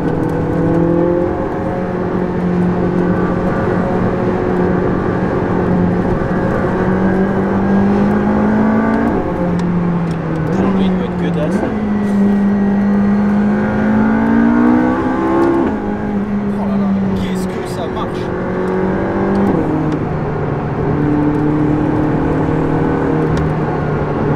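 A McLaren 675LT being driven hard with a Honda NSX following close behind, giving a loud, steady engine drone that rises and falls through revs and gear changes, with someone talking over it.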